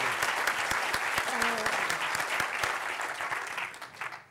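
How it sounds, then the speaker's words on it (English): Audience applauding a panel at a short film awards event, a full round of many hands clapping at steady strength, then thinning and fading out near the end. "Can we have a round of applause for our panel,"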